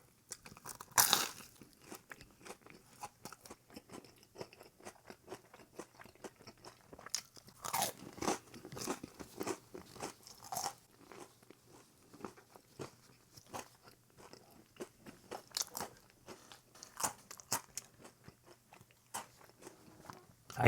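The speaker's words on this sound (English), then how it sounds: "Pizza crunch." Crisp, loud crunches and chewing of deep-fried Little Caesars pizza, close-up bites and crackly mastication repeating irregularly over about twenty seconds, with no talking.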